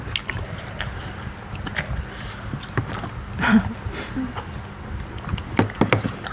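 Close biting and chewing of fried fish balls and red sausage, with soft wet crunches and smacks at irregular intervals over faint background noise.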